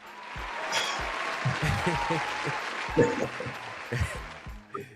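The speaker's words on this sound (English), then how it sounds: "I'm gonna give him a round of applause real quick." A studio audience on a live Raiders-themed talk show gives a light round of applause, moderately loud and steady for about five seconds, mixed with chatter and background voices.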